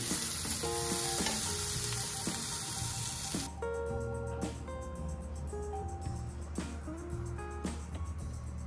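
Cluster bean curry stirred in a pan with coriander: steady sizzling under rhythmic scraping and clinking of a spoon against the pan, with running tap water hissing loudly at first, then fading; no speech.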